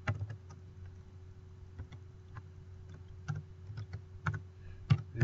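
Keys clatter on a computer keyboard in irregular bursts of quick clicks, close and fairly quiet, with a low steady hum beneath and no voices.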